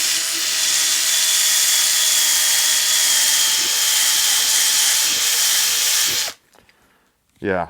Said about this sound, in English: If you're going to be running lag bolts, I wouldn't plan on doing very many of them before the battery dies down.